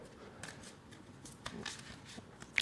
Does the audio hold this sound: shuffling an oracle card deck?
yes